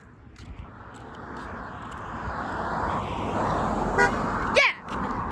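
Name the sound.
passing car honking its horn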